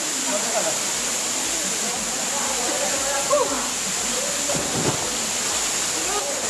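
Rushing water at the Proklamator waterfall, an Indonesian nature tourism spot in West Sumatra, roars steadily as a broad constant wash with faint voices and brief splashes over it.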